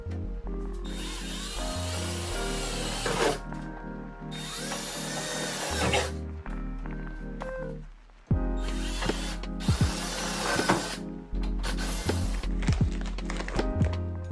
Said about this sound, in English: So I'm going to finish drilling the rest of the holes, put my Cleco fasteners,